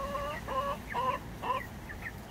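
Backyard chickens cluck in a series of short, rhythmic calls close by, repeating several times with no voices over them.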